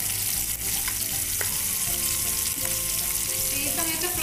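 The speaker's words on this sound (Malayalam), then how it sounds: "ചെറുതായിട്ടൊന്ന് ഫ്രൈ ചെയ്തെടുക്കുള്ളൂ കേട്ടോ" Egg frying with turmeric in a pan over a low flame, a steady, close sizzle with faint scraping of stirring throughout.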